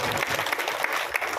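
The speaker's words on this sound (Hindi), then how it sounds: "जोरदार तालियों के साथ स्वागत।" Brief burst of crowd applause welcoming an MLA at the inauguration of a sub health centre building, dense clapping at moderate distance.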